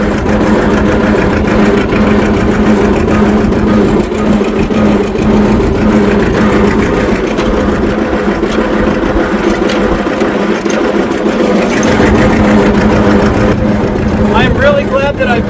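A John Deere R tractor engine labors steadily while pulling a 202 plow, a loud, continuous low rumble that holds throughout with little change in level, with some voice audible over it.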